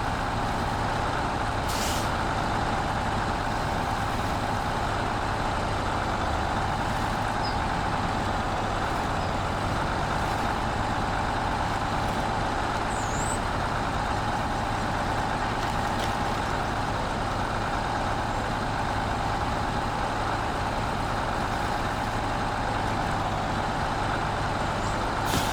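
In the SnowRunner video game, a heavy truck's engine drones loudly and continuously in the Taymyr region, with an air-brake hiss cutting in near the start.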